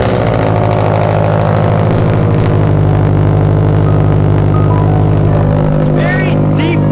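A loud, deep engine of a widebody Toyota FRS rumbles steadily at idle close by, a low throbbing growl that holds throughout.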